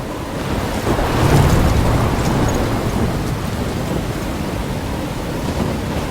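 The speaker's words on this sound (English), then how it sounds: "I'm trapped in a storm?" A loud storm in the video game Life Is Strange, near a lighthouse, roars with heavy rain, gusting wind and a low thunder rumble that swells early, then settles into a dense, continuous wash without speech.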